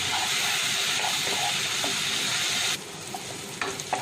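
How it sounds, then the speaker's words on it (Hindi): Spice masala sizzling loudly in a pan after water is poured in, a dense hiss that drops sharply near the end to a quieter bubbling with a few stirring knocks. "पानी डालने से तो मसाला अभी हमने जो डाला है वो अच्छी तरह पक भी जाएगा"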